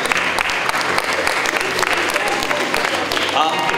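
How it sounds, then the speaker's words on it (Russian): Applause from an audience at a student concert, a dense, steady clatter of many hands clapping throughout, loud and continuous, with a voice faintly audible beneath it. "Ваши бурные аплодисменты."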